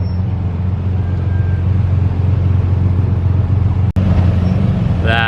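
A white McLaren F1, a $20 million car, drives past on a public road: a steady, loud low rumble of engine and road noise with a sharp click near the end and no voices.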